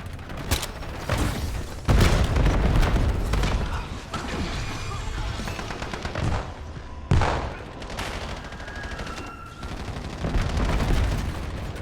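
Explosions and gunfire from the video game Call of Duty BO7 as a frag grenade goes off, with heavy booming bursts at intervals among continuous loud weapon fire, plus a faint game announcer voice.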